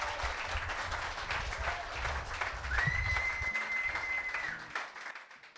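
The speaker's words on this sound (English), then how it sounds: "Thank you guys so much for clapping" An audience at a live summer concert series claps steadily throughout, with a sustained whistle-like tone rising over the crowd midway before the clapping thins out at the end.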